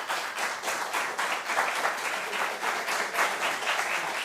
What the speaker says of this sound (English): A round of applause for both teams, please.